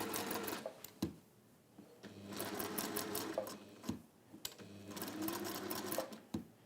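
A sewing machine stitches lace in rapid mechanical chattering runs, stopping and restarting with sharp clunks between bursts, close and moderately loud.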